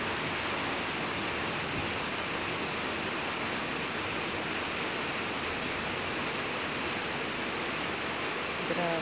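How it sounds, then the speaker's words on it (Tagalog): Heavy rain pours steadily in a dense, unbroken roar with gusting wind, loud and close throughout. "Lakas ng ulan, lakas ng hangin."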